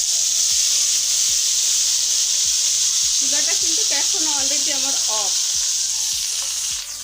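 Blended ginger, green chili, onion and garlic paste sizzles loudly in hot oil, a steady intense hiss throughout with rhythmic scraping strokes underneath and a faint voice briefly in the background.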